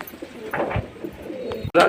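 A pigeon coos softly in short, muffled phrases as it feeds close by, ending in a sudden louder burst.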